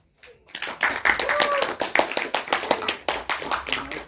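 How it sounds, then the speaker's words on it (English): An audience claps for the judge at a student debate event, many hands clapping in a fast, loud, ragged rhythm that starts after a brief quiet and keeps going, with faint voices beneath. "Give a big round of applause for our judge."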